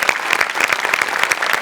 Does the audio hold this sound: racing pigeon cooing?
no